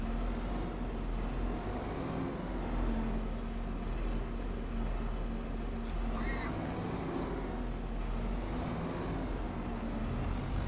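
Tractor engine in Farming Simulator 25 drives with a steady, low, continuous drone, fairly loud. A brief chirpy in-game sound briefly cuts through partway along.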